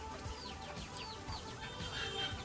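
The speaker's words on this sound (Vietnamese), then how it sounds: "Gà nè, quá trời gà luôn." Chickens clucking around a rural village yard in Phu Yen, Vietnam, several birds calling in quick overlapping bursts over steady outdoor background noise.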